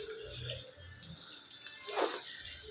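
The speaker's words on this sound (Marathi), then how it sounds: "अंडी आता इथे फ्राय करायला ठेवलेले आहेत।" Eggs fry in a tava with garam masala, turmeric, asafoetida and salt, giving a quiet, continuous sizzle and hiss with one brief louder spitting burst near the end.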